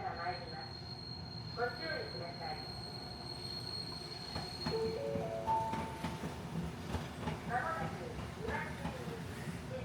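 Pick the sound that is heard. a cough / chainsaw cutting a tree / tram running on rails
tram running on rails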